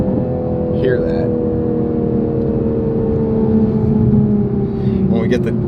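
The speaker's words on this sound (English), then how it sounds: "It actually burbles pretty good from the factory." A 2021 Toyota Supra A90 runs steadily on its factory exhaust with a low burbling rumble and a slight rise in revs, a sharper crackle near the end.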